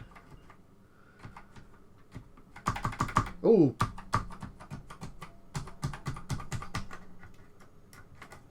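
Keys pressed one after another on a ZX Spectrum computer keyboard during a keyboard test, a run of fast, close clicks and taps that bunch up in the middle, with a short exclamation from a voice.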